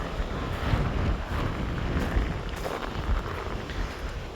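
Strong gusty wind buffets the microphone outdoors near the sea in the south, a dense roaring rush that swells and eases in bursts, with no talking.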